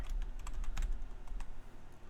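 Someone types on a computer keyboard at close range, a quick uneven patter of clicking keys with a soft thump, and no talking.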